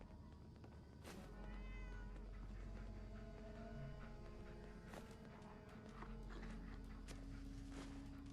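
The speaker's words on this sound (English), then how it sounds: "But I heard a cat." A cat meows in a post-apocalyptic video game, a few faint, short calls over a steady low ambient hum, with footstep-like clatter and no talk.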